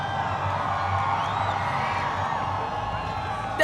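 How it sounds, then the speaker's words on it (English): A crowd cheers and whoops at the Cadillac 2026 F1 car launch, a steady roar of many voices held at even loudness throughout, with scattered shouts rising above the din. "That was kind of cool with the crowd."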